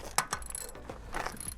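A wrench working loose the oil drain plug on a Honda Shadow motorcycle: a few quick, close metallic clicks and ratcheting scrapes in an irregular burst, faint and without talk.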